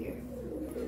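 A pigeon of an old Bhure Bajre breed from Tonk, Rajasthan, coos low and steady, close by, filling a brief moment with no speech.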